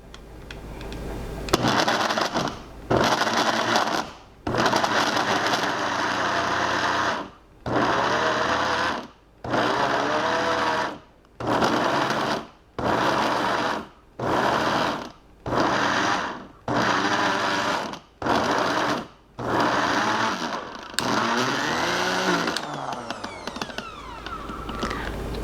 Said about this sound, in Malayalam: ഞാനിതൊന്ന് കറക്കിയിട്ട് എടുക്കട്ട അപ്പോൾ ഇത് മിക്സി ഓൺ ആക്കിയിട്ട് ഓഫ് ആക്കണവരെ ഞാനിത് ഫോർവേഡ് ചെയ്യില്ല കേട്ടോ